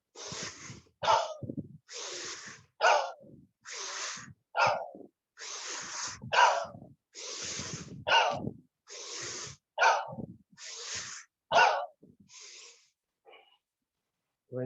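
A yoga session in which a person breathes rhythmically, with about a dozen forceful exhalations through the mouth, each a short loud whoosh separated by brief pauses.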